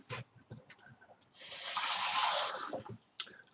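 Water runs from a tap for about a second in a brief rushing burst, framed by quiet shuffling and handling sounds before and after.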